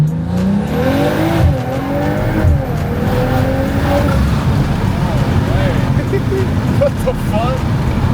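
A custom-tuned car, a widebody Supra tuned after dyno runs, accelerates hard on a first test drive, engine note climbing through rising sweeps with some tire noise, loud and close, with people talking over it.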